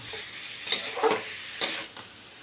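Paneer and cauliflower cooking in a pan with masala give a soft sizzle punctuated by a few distinct spatula clinks and stirring scrapes, fairly quiet and without talk.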